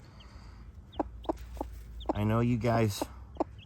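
Small chickens cluck in a few quick, close chirps scattered across a few seconds, mixed with someone speaking.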